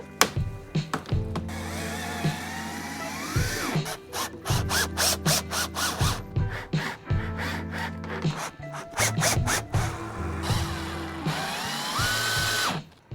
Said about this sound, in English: Just hold it in place like that, pop a few screws in